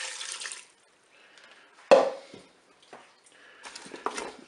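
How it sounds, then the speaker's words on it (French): Broth poured into a Cookeo multicooker pot in a kitchen, short splashing bursts of liquid separated by quiet gaps, faint and close with no talk. "Je verse mon bouillon."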